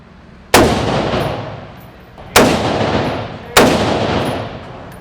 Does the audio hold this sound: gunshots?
yes